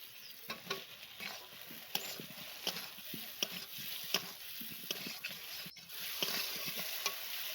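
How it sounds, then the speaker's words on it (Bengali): Pre-fried potatoes tossed into sautéing spices in a pan make a faint, steady sizzle broken by regular spatula scrapes and taps, no talk. "এখন এর মধ্যে আগে থেকে ভেজে রাখা আলুগুলো দিয়ে দিচ্ছি"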